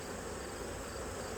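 Agitated honey bees swarm around an opened hive in autumn, producing a steady, dense, close-up drone of many wingbeats that runs unbroken and fairly quiet, with no talking.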